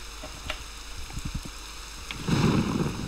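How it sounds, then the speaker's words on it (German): Rain falling steadily in the video game Wolfenhain, with low thumps and a rumble of thunder swelling near the end, faint and close-sounding. "Der letzte Blitz war verflucht nahe!"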